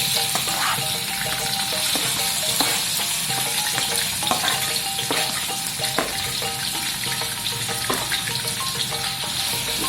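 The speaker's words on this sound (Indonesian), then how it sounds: "Minyak sudah panas, kita masukkan cabai yang digiling agak kasar" Coarsely ground chili frying in hot oil, a dense, steady sizzle that stays loud and close throughout, with faint scraping clicks from stirring scattered across it.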